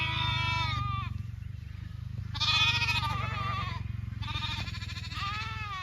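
Several ewes in a grazing sheep flock bleat in repeated, wavering calls, some close and loud, over a steady low rumble of wind or outdoor background noise.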